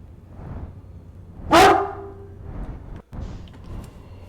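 River, a pet dog in a room, lets out a single very loud, close bark that overloads the sound, surrounded by softer muffled huffs and a brief dropout.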